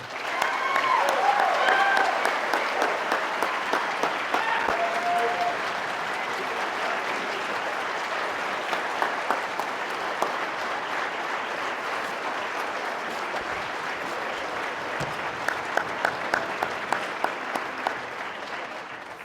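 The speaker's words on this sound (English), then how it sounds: "So everybody give Bubba a round of applause" Sustained applause fills an auditorium at a fire and rescue academy commencement and badge pinning, steady dense clapping with a few sharper claps and whoops standing out near the front.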